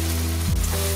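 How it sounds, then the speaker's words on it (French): Onion, shallots, garlic and ginger frying in a wok for stir-fried vegetable noodles: a short, loud burst of sizzling over a steady low hum. "maintenant je mets donc mon oignon avec mes échalotes, mon ail et mon gingembre."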